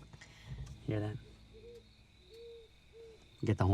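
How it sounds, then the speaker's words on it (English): A horned owl hoots three times at night, soft low calls spaced evenly in quiet surroundings, with brief bursts of talk or movement before and after. "Get the horned owl this time of year."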